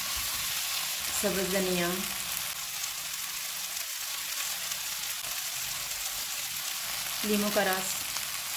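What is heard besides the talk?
kebabs frying in a pan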